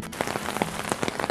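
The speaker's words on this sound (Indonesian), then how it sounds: "Sedang hujan deras, lokasi camping" Heavy rain pours down at the Smiling Cinangka campsite, a dense steady patter of drops striking surfaces close by, with no voices over it.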